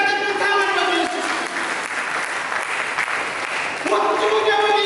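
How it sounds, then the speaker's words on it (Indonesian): Congregation clapping in a church service, dense steady applause filling the room from start to finish, with a voice speaking over it briefly near the end. "Berikan tepuk tangan bagi Yesus."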